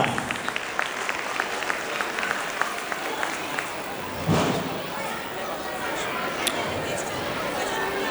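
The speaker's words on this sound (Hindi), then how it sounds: "जोरदार तालियां" An audience at a school annual function applauds steadily, a dense wash of clapping with chatter underneath, continuous and moderately loud.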